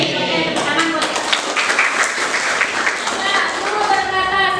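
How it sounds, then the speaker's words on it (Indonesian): Classroom group of students applauding together in a dense, steady wash of claps, loud and close, with children's voices mixed in. "tepuk tangan buat kita"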